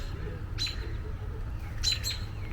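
A fallen baby bird on the ground outdoors gives two short, high chirps about a second apart, faint to moderate over a steady low rumble.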